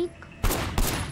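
Gunfire in the video game Sleeping Dogs: Definitive Edition as shots are fired at car tires, with a few sharp bursts cracking in quick succession.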